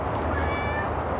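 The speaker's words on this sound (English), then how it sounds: "That's my cat, Tigger." A pet cat named Tigger meows in a garden beside jasmine ground cover, a single drawn-out close call over steady low outdoor background noise.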